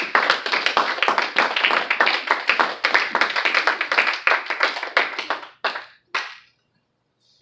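A church congregation claps hands in rapid, rhythmic unison for several seconds, loud and close, before the clapping breaks off into a few scattered claps and silence.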